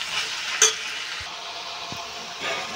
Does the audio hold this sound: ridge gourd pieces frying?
yes